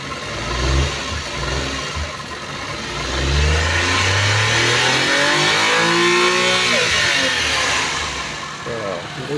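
A car engine revs up and settles during a power check, with a rising then falling whine under a brief spoken word or two, close by.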